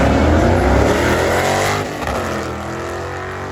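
A boosted GM V6 car engine runs loud and close with a steady rough drone that eases slightly in level partway through.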